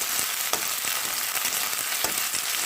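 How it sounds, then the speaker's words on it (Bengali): Beans and drumsticks fry in hot oil tempered with black cumin, a loud continuous close-up sizzle marked by a few sharp clicks from stirring. "বিনগুলো সজনে ডাঁটাগুলো ভেজে নিচ্ছি গরম তেলের সঙ্গে"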